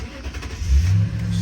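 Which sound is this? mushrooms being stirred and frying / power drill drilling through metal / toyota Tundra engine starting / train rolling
toyota Tundra engine starting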